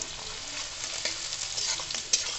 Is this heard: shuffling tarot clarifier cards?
no